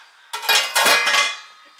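A large Paderno stock pot with a thick bottom is handled, giving two short clattering metallic knocks and scrapes close by, followed by a faint tap and quiet.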